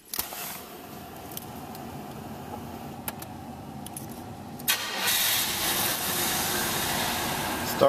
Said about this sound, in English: Starts right up, runs, drives very well.